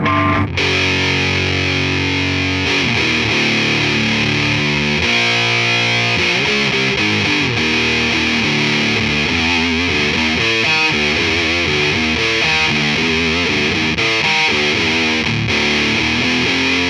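Heavily distorted, fuzzy electric guitar through an op-amp Big Muff fuzz pedal plays chords and riffs, loud and saturated with a thick, buzzy sustain throughout.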